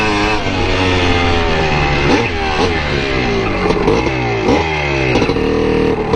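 A 1981 Yamaha IT250 two-stroke dirt bike ridden through woods, its engine revving up and down in repeated loud bursts with rising and falling pitch, close to the rider.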